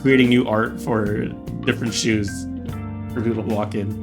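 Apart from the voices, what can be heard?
No distinct noise like a dog, phone or traffic.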